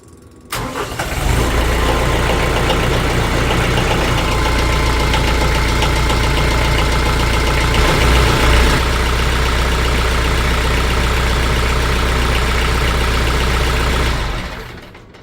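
A TYM T474 tractor's diesel engine, fresh Shell Rotella T4 15W-40 oil in after its 50-hour service, starts and idles loudly and steadily nearby, then cuts off at the end.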